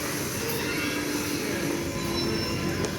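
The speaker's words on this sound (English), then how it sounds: "There goes the Waterloo and City line to Waterloo." A London Underground Waterloo and City line train pulls out of Bank station, a steady low rumble of wheels and motors with faint squealing tones rising and fading as it leaves, no voices nearby.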